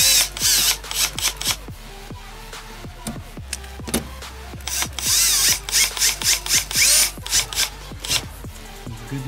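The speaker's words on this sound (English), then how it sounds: "he's going to take and tighten it down with the drill" A power drill driving a fastener to tighten down an amplifier wire during car amp and subwoofer rewiring, with repeated short close bursts of whirring and rubbing, bright and loud, alone without talk.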